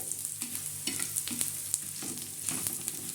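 Whole spices and coriander seeds dry-roasting in a pan for a black masala for chicken curry give off a steady, close crackle. Scraping stirs and sharp little pops come through at irregular moments.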